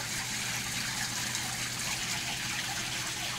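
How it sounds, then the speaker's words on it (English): An indoor fountain sends water running down a glass surface, giving a steady, even rush and trickle that holds without pause, fairly close and moderately loud with no voices. "it's water running down glass"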